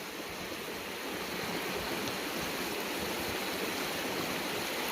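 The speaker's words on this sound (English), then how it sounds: "Nice little creek right here by Finland." Small creek flowing near Finland on the East Branch Baptism River along the Superior Hiking Trail, a steady broadband rushing wash of water, close and continuous, with no voices.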